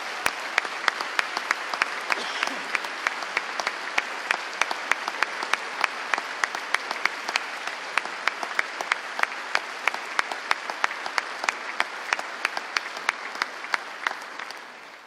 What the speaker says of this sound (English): Would you please join me in giving Ms. Fluke and all our Missouri educators a round of applause?